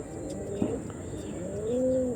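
Pigeons of an Andhra Kalshira breed coo softly at close range, with low rounded calls early on and a longer, clearer coo toward the end over faint background noise.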